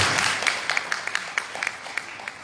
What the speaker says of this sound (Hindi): एक बार फिर से गजेंद्र सिंह जी के लिए तालियां